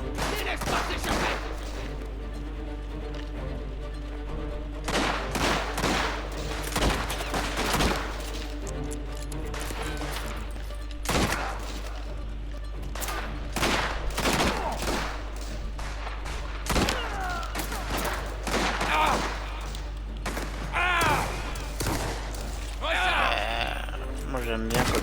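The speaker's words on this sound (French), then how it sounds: "Moi j'aime bien quand on me tire dessus comme ça" Rapid gunfire bursts crack repeatedly in the video game Mafia as enemies shoot at the player, sharp shots scattered through the whole stretch over a steady low engine hum, with occasional groans.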